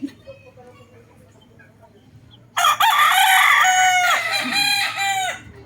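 A Boston round head gamefowl rooster, a red-eyed broodcock, crows once loud and close, a long full cock-a-doodle-doo that starts partway in after a quiet stretch of faint background hum.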